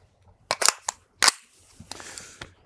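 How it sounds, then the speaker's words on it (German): Pistol being loaded and chambered during special-forces shooting training, a few sharp metallic clacks and snaps in quick succession followed by a softer rattling slide, close and alone without talk. "wir laden die Waffe fertig"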